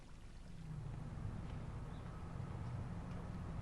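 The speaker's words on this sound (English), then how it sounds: "The water passing through the flume enters a stilling well behind this metal grill." Water flowing through a concrete stream-gauging flume on a creek in the Santa Clara Basin, a soft, steady rushing wash with no breaks or voices.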